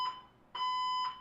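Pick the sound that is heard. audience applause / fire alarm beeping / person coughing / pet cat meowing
fire alarm beeping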